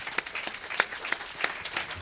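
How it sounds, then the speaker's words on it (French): A small audience applauds a family business, a sparse run of sharp individual claps at moderate volume, heard alone without talk. "Je peux les applaudir"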